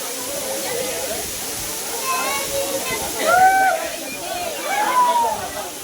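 Katiki Waterfalls near Araku in India roars in a steady broadband rush during rain, with voices talking over the falling water and swelling slightly louder in places.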